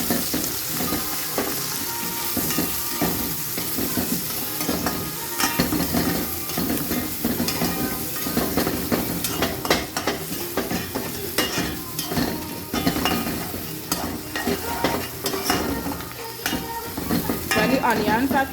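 Onions and pimentos fry in browned garlic in a pan, a loud continuous sizzle with repeated scraping and clinking of a spoon stirring against the metal, close and steady throughout.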